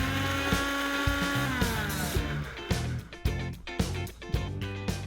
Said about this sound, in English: And we'll grind this to a coarse powder.